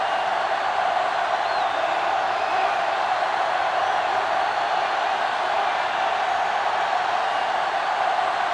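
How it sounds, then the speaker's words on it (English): A Penn State stadium crowd roars in a steady, dense wall of cheering during a Big Ten opener football game against Wisconsin, loud and continuous throughout without a break. "And this crowd is going crazy."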